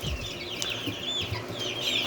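Young chickens and several roosters in a coop cluck and chatter close by, with overlapping calls forming a continuous, busy barnyard clamor.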